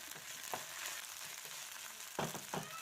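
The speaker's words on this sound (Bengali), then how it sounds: "আদা রসুনটা একটু তেলে নেড়ে নেব।" Ginger garlic paste stirred in hot oil in a pan while cooking an eggplant and tomato dish, a soft steady sizzle broken by a few sharp scraping strokes of the spoon.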